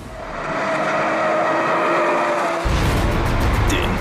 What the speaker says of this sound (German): den Porsche 911 Turbo